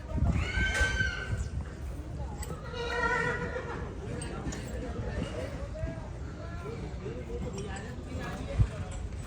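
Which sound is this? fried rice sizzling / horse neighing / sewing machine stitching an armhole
horse neighing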